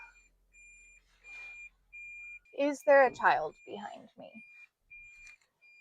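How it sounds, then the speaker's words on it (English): A car's reversing alarm repeats a thin, steady beep in regular pulses about once a second, faint and continuous behind a person speaking briefly near the middle. "My car beeps like a freaking tractor when I'm backing up."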